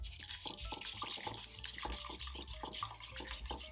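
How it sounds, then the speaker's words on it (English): A sherry, wine and egg mixture is stirred in a pan with quiet, repeated scraping and sloshing strokes in an uneven rhythm, close and faint. "Make sure that you stir the whole time."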